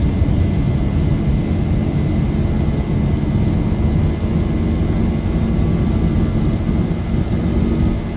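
A Boeing 737-800 jet rolls down the runway under takeoff power in the X-Plane 11 flight simulator, with a steady, loud, low engine roar and rumble holding constant throughout.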